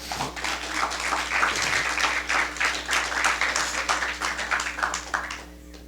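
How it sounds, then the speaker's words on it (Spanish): Church congregation applauding the Lord, a steady round of clapping from many hands that builds quickly, holds evenly for several seconds, then fades out, over a low constant hum. "¿Cuánto le da un aplauso al Señor fuerte?"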